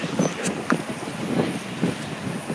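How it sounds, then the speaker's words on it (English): Steady roaring wind on a beach buffets the microphone in uneven gusts, a dense rushing noise throughout with periodic louder thumps. "It's really windy out. Oh my gosh, so windy."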